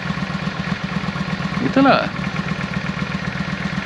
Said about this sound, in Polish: Zdaje się ten silnik pracować tak bardziej gładko.